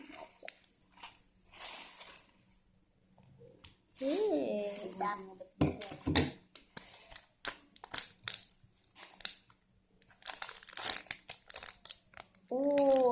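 A Bima X power stone packet is snipped and torn open with scissors, giving crisp, close plastic crinkling and rustling in bursts, with a voice talking at moments.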